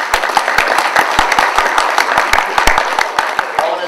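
Audience applause at a Federation of Hellenic Societies event honoring a state senator, a dense patter of claps with sharp individual hand strikes standing out, loud and steady throughout.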